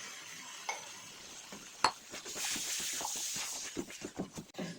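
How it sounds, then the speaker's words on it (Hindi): Potatoes fry with mutton mince in a pan, a soft sizzle under repeated stirring scrapes and clinks that grow busier toward the end, close and fairly quiet. "5 मिनट ये आलू को कीमे के साथ इस तरह हम भूनेंगे"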